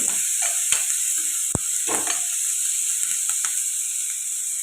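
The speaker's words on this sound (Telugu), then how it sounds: "ఇవి ఫ్రై అవ్వాలి ఉల్లిపాయలు ఎలా ఫ్రై అవుతాయి కదండి" Chopped onions and green chillies fry in a pan for an egg curry, giving a steady close sizzle broken by a few sharp scrapes and taps of stirring, with no talking.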